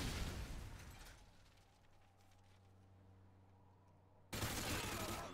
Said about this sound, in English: Who is shooting at me, man?